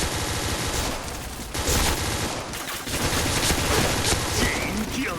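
Rapid automatic gunfire from the shooter game Point Blank rattles continuously and loudly throughout, a dense fusillade of close shots with no pauses.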